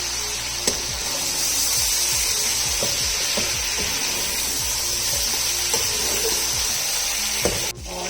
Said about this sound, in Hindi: बड़े साइज का 1 मैं आलू इसमें डाल दूंगी और इसको भी अच्छी तरह हम फ्राई कर लेंगे